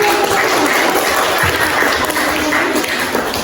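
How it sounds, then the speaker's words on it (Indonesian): A classroom of students applauds a presenting group, steady dense clapping from many hands at close range, sustained evenly for several seconds without talk. "Beri tepuk tangan kelompok 1"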